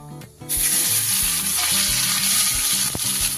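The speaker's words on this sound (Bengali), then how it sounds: "গ্যাসে কড়াই বসিয়ে দিয়ে দিচ্ছি একটু কালো জিরে ফোড়ন। সর্ষের তেল দিয়েছি আমি।" Nigella seeds hit hot mustard oil in a wok on a gas stove and burst into a loud, steady sizzle after a brief quiet start, crackling on without talk.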